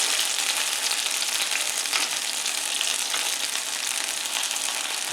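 Loud, steady frying sizzle of sourdough discard batter in a pan fills the clip, a dense crackling hiss with scattered pops, close up and continuous, with no talking.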